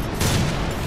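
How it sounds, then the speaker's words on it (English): Rockets launching in the video game Transformers: War for Cybertron, a loud, dense burst of blasts packed into under a second with no voice over it. "Launching rockets!"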